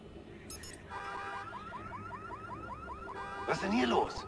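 Electronic alarm triggered in the game Watch Dogs, a rapid repeating warbling siren tone looping steadily at moderate volume, with a brief noisy burst at the start and a louder clattering sound near the end.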